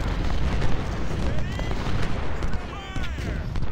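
Musket volleys crackle and rumble across a battlefield in the Ultimate General: Civil War game, overlapping bursts of massed fire that keep a dense, loud roar going throughout.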